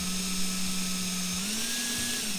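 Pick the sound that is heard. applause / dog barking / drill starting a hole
drill starting a hole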